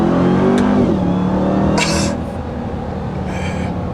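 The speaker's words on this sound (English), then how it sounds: "I'm just gonna do a few more downshifts for you here." A 2021 Ram 1500 TRX pickup engine revs on a downshift, a loud close rising roar that settles into a steady lower drone, with faint brief voice sounds.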